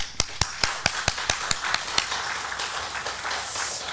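Applause from a church congregation during a Sunday service starts as a few separate distinct claps and then softens into a denser, fading patter of hands.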